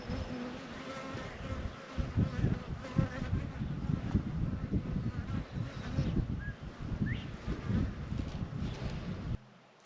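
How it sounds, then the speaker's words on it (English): Honey bees hum in a low, wavering drone as they work bee balm flowers, with individual buzzes passing close to the microphone, some wind rumble underneath and a sudden cut near the end. "there's just a low hum. My bees are everywhere, working."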